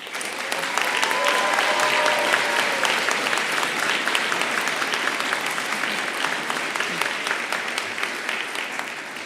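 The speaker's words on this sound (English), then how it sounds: "Give them a round of applause." Sustained audience applause at a winter convocation ceremony in a large hall, a loud, dense wash of many hands clapping that swells at the start and carries steadily throughout, with a few faint voices mixed in.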